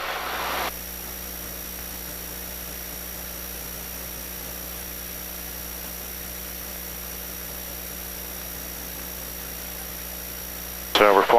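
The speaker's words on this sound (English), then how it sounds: "So we're flying the downwind leg now at about 80 miles an hour." Small airplane engine droning steadily in the cabin on the downwind leg at about 80 miles an hour near Smoketown airport, Pennsylvania, a constant loud hum with a steady tone, and a voice briefly speaking near the start and end.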